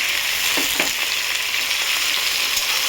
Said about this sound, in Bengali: দিয়ে দেবো লঙ্কা আর আদা। তার সাথে 3টে টমেটো কিছু দিয়ে দেবো।